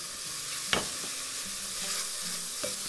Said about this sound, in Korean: 고기 넣고 같이 볶아줍니다.